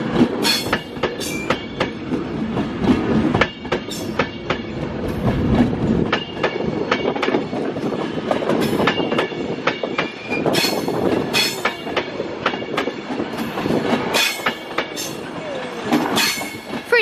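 Class 390 unit 390138 bound for Manchester Piccadilly passing through Crewe, a loud sustained rumble with clattering wheel beats and occasional squeals as the carriages roll by.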